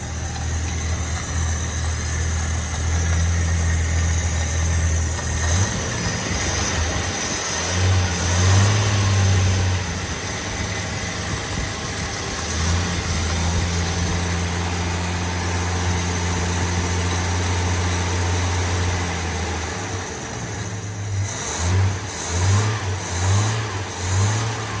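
An XE Ford Falcon barn find left untouched for 13 years idles with a low, uneven note, then revs up in several pulls over about 25 seconds, close and loud.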